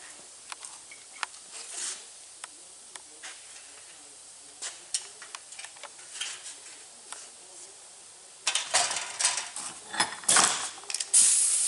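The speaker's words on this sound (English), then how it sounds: "it's easier to take this cleco and put it in from the other side" Clecos being pushed into metal aircraft wing ribs in a workshop with air hoses, heard as scattered small metallic clicks and ticks over a low hiss, growing into a denser burst of clattering and air noise near the end.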